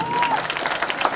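An audience claps after a student performance at a gurukul, a short burst of dense, even applause under a speaking voice.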